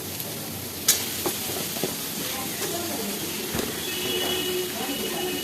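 Chopped tomato dropped into a pan of frying ginger and garlic, a close steady sizzle and hiss with a sharp burst as it goes in, followed by scattered clinks and stirring.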